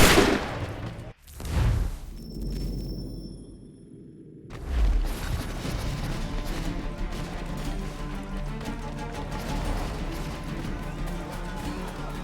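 Musket fire from redcoat soldiers in the video game Assassin's Creed III: a sharp crack, then a second blast, followed by sustained loud battle noise of gunfire and commotion.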